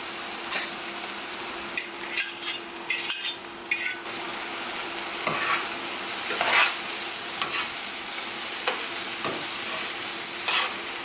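King and yellow oyster mushrooms stir-fry in a pot, giving a continuous sizzle broken by scraping stirs and occasional metallic clinks of a utensil against the pot.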